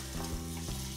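Red chili powder, turmeric and cardamom powder sauté in a pan for an okra masala gravy, a brief steady sizzle with a low hum underneath.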